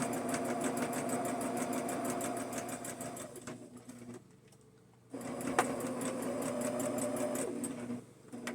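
A sewing machine stitches a quilt block in rapid, even mechanical runs, close and clear: a long burst, a short quiet pause, then another sustained run that eases briefly near the end.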